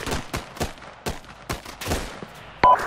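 Gunfire in the military shooter game Arma 3, a series of sharp shots spaced irregularly, some close and loud, others more distant, with a final loud crack near the end.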